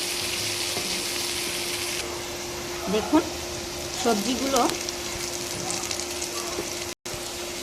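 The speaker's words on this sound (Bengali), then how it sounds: "সবজিগুলো সুন্দর লাল লাল করে ভাজা হয়ে গিয়েছে।" Carrot, sweet potato and potato frying in oil in a pan, a steady sizzle running throughout with a few clattering stirs, while a person speaks briefly over it.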